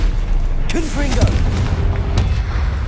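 Confringo blasting spell in Hogwarts Legacy, a sharp booming burst with a crackling tail and a second impact, mixed with combat voices and effects.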